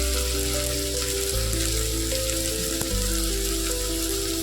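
Saag, leafy greens, sizzles steadily in a hot pan, a dense, constant crackle and hiss that stays close and even throughout, with a low hum beneath and no talking.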